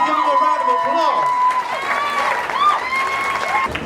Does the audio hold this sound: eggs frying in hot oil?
no